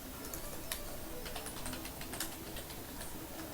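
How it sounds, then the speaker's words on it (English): Rapid typing on a computer keyboard, a steady patter of light clicks with a few sharper keystrokes, fairly close and moderately quiet against a faint background hum. "Here, I'll type it"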